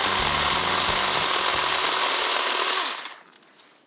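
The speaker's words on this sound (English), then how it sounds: "So this mini chainsaw is only designed for branches up to 4 inches" A mini chainsaw, made for branches up to about four inches thick, buzzes steadily at close range with a pulsing motor whine, then cuts off near the end, leaving a few faint knocks.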